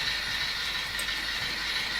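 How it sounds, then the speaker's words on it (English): A model train set running on near-enough set track, giving a steady, quiet mechanical rumble and hiss that holds evenly throughout, with no voices. "It's a train set."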